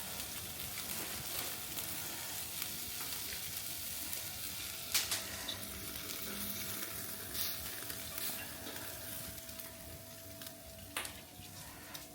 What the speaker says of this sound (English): I'm going to stick these straight over the fire for the final part